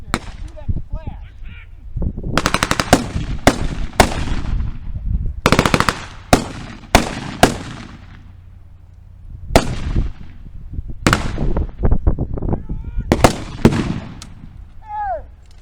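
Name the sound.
gunfire at WW2 P.O.W. camp open house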